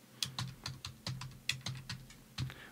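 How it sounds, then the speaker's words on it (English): Someone types on a computer keyboard up close, a quiet run of about a dozen crisp key clicks in an uneven rhythm, with no voice over it. "So you just type in media in one,"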